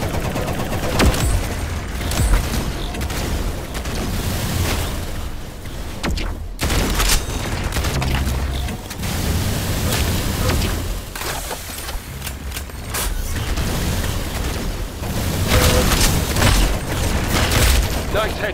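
Roblox Arsenal gunfire, dense rapid shots and bursts cracking loudly and almost continuously over a noisy game mix, with occasional heavier booms.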